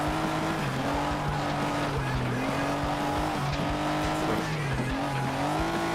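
Cars in the FlatOut: Ultimate Carnage racing game drive with a steady, loud engine drone and bursts of tire squeal and skidding running throughout, with no pauses.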